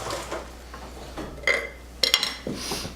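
Metal tray clatters and clinks as a pan of cooked food comes out of the oven for a Christmas recipe, a few scattered knocks and scrapes with one brighter clang near the end.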